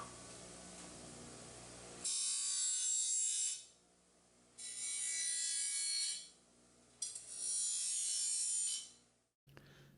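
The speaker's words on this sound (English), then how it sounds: "what I'm doing here is deburring the edges on the parts" A Scotch-Brite wheel on a buffer deburrs the formed edges of metal bracket parts for an RV-12iS aircraft build, running in three loud high-pitched grinding bursts of about one and a half to two seconds, each separated by quieter pauses.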